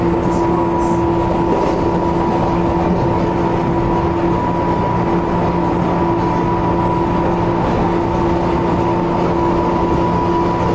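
Train pulling into Rangkas Bitung station, heard as a loud, steady rumble with an unbroken mechanical hum and no voices.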